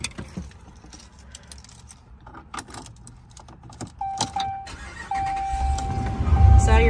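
The engine of a 2017 Ram 2500 pickup truck with 133,000 miles cranks and starts, then settles into a loud, steady idle, following a few seconds of keys and cabin clicks.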